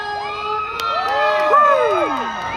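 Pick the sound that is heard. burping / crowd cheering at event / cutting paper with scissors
crowd cheering at event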